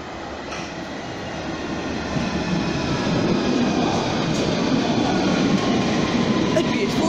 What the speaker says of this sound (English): It's my train to Amersham!